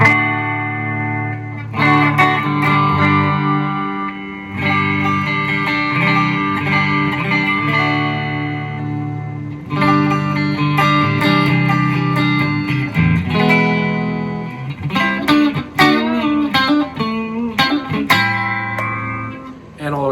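Kramer VT-211S electric guitar on its bridge pickup with a clean tone, strummed chords and picked notes ringing out steadily for about twenty seconds, with brief pauses between phrases and a busier run of picked notes near the end.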